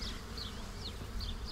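Flies buzzing around dairy cows on a farm, a faint close insect drone with a few passing whines, alone with no talk.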